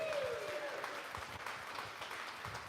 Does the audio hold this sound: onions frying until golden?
no